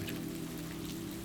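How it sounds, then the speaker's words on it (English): Gentle rain falls in a steady, even hiss with a soft patter on a surface, continuous and unbroken, under a low droning hum. "Raindrops were her nighttime companions, each one a tiny drumbeat of solace."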